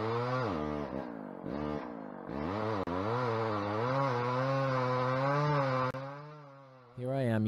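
Chainsaw engine revving and labouring as it cuts into wood and binds in the kerf, close and loud with rising and falling pitch, briefly dropping off before revving again.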